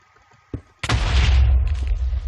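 Blocks blow up in a Minecraft Sky Wars match: a short thump, then a loud booming explosion with a long rumbling tail.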